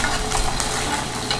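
Tofu pieces fry in a pan with a bright, continuous sizzle and crackle, close and fairly loud, with faint stirring scrapes mixed in and no talking.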